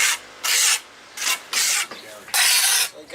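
A tool scrapes down the mortar joints of a stone sidewalk. Four loud, close, rasping strokes come with short pauses between them, rough and gritty against the stone.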